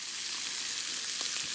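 Steak and onions frying on a camp griddle outdoors, a steady close sizzle with soft crackles and a couple of faint pops near the end, no voices.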